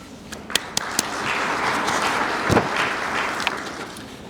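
A room of attendees at an economic development coalition annual meeting claps for elected officials, a few sharp individual claps at first swelling into a moderate, fairly close round of applause that holds steady before thinning out.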